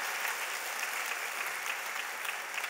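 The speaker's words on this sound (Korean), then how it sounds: "우리 박수로 이분들을 축하하겠습니다" Congregation applauding members of a local church during a Sunday worship service, a soft, even stretch of many hands clapping from a distance.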